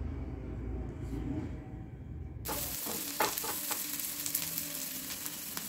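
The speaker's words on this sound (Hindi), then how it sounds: "अब इसमें डाल दूंगी कैप्सिकम" Capsicum tipped into a hot pan sets off a sudden loud sizzle partway through, after a quieter opening, and the frying hiss continues steadily with occasional crackles.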